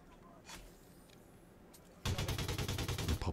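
Rapid automatic gunfire erupts in a dense, evenly spaced burst after a quiet stretch, loud and close, from on-foot combat in the open desert of Elite Dangerous Odyssey.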